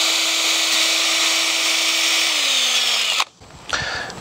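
A power drill bores vent holes into a rifle prop, a steady loud motor whine holding for about three seconds, dipping in pitch, then stopping before briefly spinning up again.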